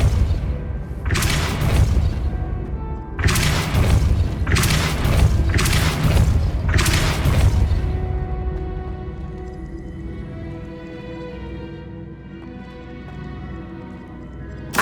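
Depulso spell blasts in Hogwarts Legacy: loud, deep booming bursts, two close together then a rapid run of three more, each trailing a rumble, fading into a ringing tonal tail and quiet ambience.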